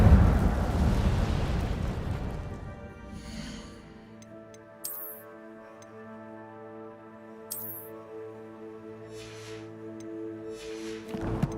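An Incendio fire spell cast in Hogwarts Legacy bursts out with a loud, roaring, crackling rush. It fades within a couple of seconds into sustained tonal music with two short, bright chime-like accents.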